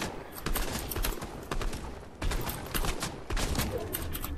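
Rapid automatic gunfire from a drum gun in Fortnite, bursts of dense shots stacking close and loud with brief gaps between volleys.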